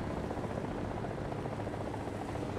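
A friendly helicopter in War Thunder ground battles throbs with a dense, continuous rotor roar, loud and close throughout, with no voices over it.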